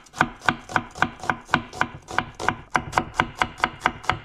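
A knife slices an onion into thin strips on a cutting board for a whole steamed squid dish, giving about sixteen crisp, evenly spaced chops in a steady quick rhythm, close and clear with no talking.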